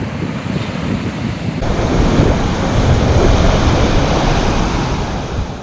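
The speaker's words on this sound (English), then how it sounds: "We've been on the beach for a couple of hours" Ocean surf washes steadily onto a Florida beach, a loud continuous roar of breaking waves with wind buffeting the microphone throughout.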